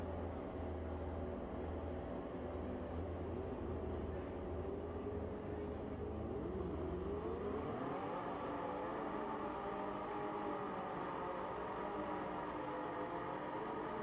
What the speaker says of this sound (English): Turbo power in the ZX-10R.